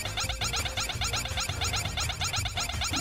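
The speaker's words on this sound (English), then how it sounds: "The laser is making a weird sound." Boss laser in the platform game I Wanna Be The Boshy gives off a strange, fast pulsing buzz, repeating in a rapid even rhythm under game music, fairly quiet and continuous throughout.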